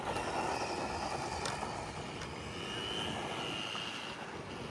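A HOSIM 1/10 4x4 sports racing RC truck with a 390 motor runs with its geared drivetrain whining. A steady, moderately loud hum carries thin high tones and drifts slightly in pitch throughout.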